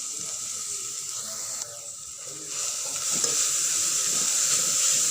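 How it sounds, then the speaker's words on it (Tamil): Grated beetroot and carrot being stirred in a pan for a carrot beetroot poriyal, a steady close sizzle with scraping stir sounds that grows louder toward the end, no talking. "இப்போ நம்ம துருவி வச்சுருந்த பீட்ரூட்டையும் கேரட்டையும் உள்ளே போட்டுடலாம். ஒரு லைட்டாக ஒரு கிண்டுனா போதும்."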